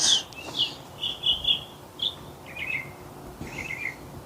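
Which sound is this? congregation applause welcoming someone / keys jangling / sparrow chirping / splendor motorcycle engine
sparrow chirping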